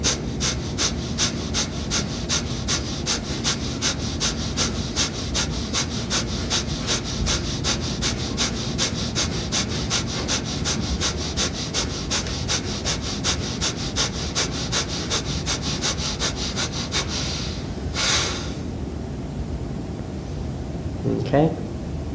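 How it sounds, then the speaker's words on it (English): Rapid, forceful yoga breaths pulse in a steady rhythm of about one per second for roughly seventeen seconds, each exhale a sharp, close huff, then a pause with a couple of softer breaths and a sniff. "You pull them in with force to get the air out, and you bring them out. You expand them fully to suck the air in"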